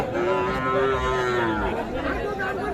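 A cow gives a long, low moo close by at a cattle market, with a murmur of crowd chatter around it.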